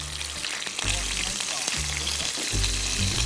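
Fried dumplings sizzle and crackle steadily in a pan at a campsite, a loud continuous frying hiss with low voices talking over it.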